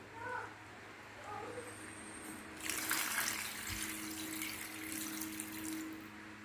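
Water runs into a pot of Jamaican stew peas cooking with pig's tail, a soft steady pour that swells midway and continues under a low kitchen hum.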